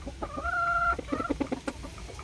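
A Sweater-bloodline gamecock rooster from PMM Game Farm gives a short, close crow followed by a few quick clucks.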